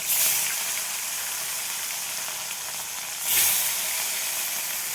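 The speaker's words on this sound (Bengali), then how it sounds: "মাছগুলো ভেজে নেব।" Snakehead (shol) fish frying in hot oil, a steady close sizzle and hiss with two louder spattering bursts, no talking.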